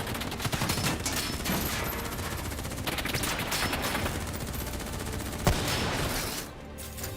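Sustained rapid gunfire from Call of Duty Black Ops 3, dense overlapping bursts and volleys filling the scene at steady loudness, with one sharp louder crack near the end before it eases off.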